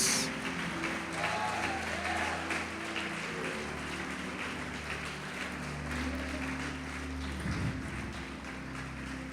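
Congregation in a church applauding during a communion service, a dense sustained clapping wash lasting throughout with a low musical drone underneath.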